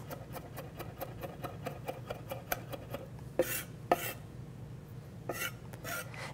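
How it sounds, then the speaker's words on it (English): Knife chopping garlic on a cutting board and the blade being dragged across the board, a quick steady series of light taps followed by a few louder scraping strokes, faint and close with no talking. "chopping and dragging the blade across the board, killing the teeth on it"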